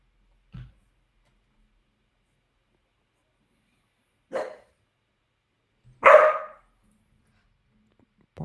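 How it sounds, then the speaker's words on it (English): A dog lets out a few separate barks, one short low woof followed by two sharper barks several seconds apart, fairly close in an otherwise quiet room. "Bark."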